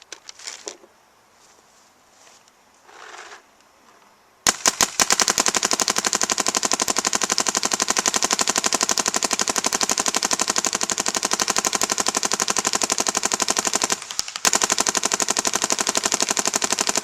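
Shocker RSX paintball marker firing a long, fast, steady stream of shots close by, after a few quiet seconds of faint handling, with one brief pause near the end before firing resumes.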